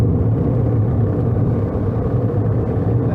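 Inside a Volkswagen XL1 diesel hybrid on the road, the engine hums steadily at around 2,000 rpm, a low continuous rumble mixed with road noise throughout.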